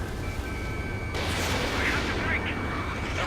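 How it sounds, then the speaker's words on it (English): Bombing explosions in the combat flight game Ace Combat 7 form a dense, continuous roar, with a heavy blast landing about a third of the way in and a deep rumble that stays loud to the end. "They're bombing us."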